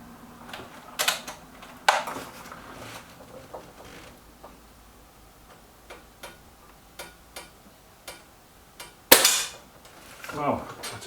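A Reximex Regime air rifle fires at a target card, a series of sharp, dry clicks spaced irregularly, with one much louder crack near the end followed by a short rattle.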